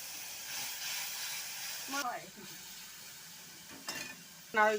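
Cumin and spice masala frying in a pan, a steady soft sizzle with a few brief stirring clatters of a utensil against the pan.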